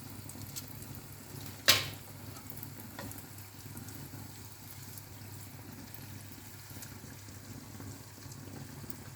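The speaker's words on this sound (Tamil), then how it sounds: "அதிரசம் எப்பயுமே எண்ணெயில் ரொம்ப நேரம் பொரிக்கக்கூடாது" Athirasam sweets fry in hot oil with a steady, faint bubbling sizzle and one brief louder splash or clatter near the start; no talking.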